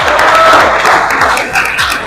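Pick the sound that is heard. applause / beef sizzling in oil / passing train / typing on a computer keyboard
applause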